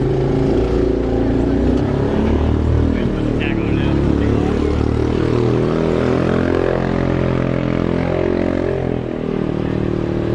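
A Corvette Z06 C7 runs at a drag racing event at Orlando Speed World, its engine a loud, steady low rumble with shifting tones that fills the whole stretch, while people talk over it.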